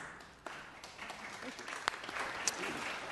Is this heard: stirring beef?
no